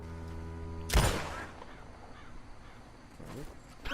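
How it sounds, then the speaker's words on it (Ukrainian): Crows cawing in the video game Red Dead Redemption 2, after a sharp, loud bang near the start; the caws are faint and scattered over quiet ambient background. "Птахи просто літали, це не була частина сюжету."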